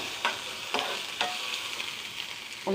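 Onion, garlic and chilli sauté in a pan for a drumstick and jackfruit seed thoran, a soft steady sizzle broken by three or four quick scraping stirs, no talking.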